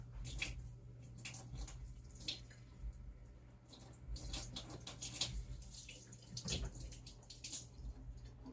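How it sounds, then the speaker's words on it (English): Warm tap water running in a kitchen to dampen cheesecloth, a quiet, continuous splashing flow with a few louder surges. "I'm going to dampen this with some warm water."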